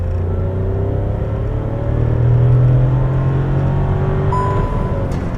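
Volkswagen T-Cross 1.0 engine droning under hard acceleration, a steady, loud in-cabin hum whose pitch climbs as revs rise, with no talking.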